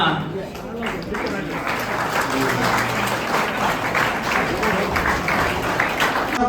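An audience at a college evening cultural program applauds steadily after a chief guest is honoured on stage, with a thick wash of clapping and voices blending underneath for several seconds.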